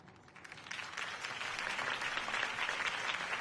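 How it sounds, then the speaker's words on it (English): Applause from a crowd in the Telltale Batman video game swells from moderate to loud and continues as dense, sustained clapping with no voices on top. "could have heard that applause"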